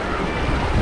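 Flowing water at the Pamukkale travertine terraces in Denizli, Turkey, a dense, steady rushing wash heard close and loud, mixed with wind buffeting the microphone.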